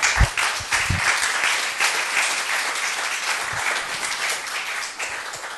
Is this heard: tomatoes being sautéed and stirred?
no